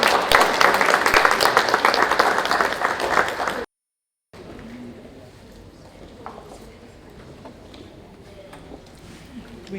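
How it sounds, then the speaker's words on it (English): An audience at an International Women's Day 2020 event applauds a speaker. There are a few seconds of loud, dense clapping, a brief silence, then quieter scattered claps and room noise. "Can we give her a round of applause, please?"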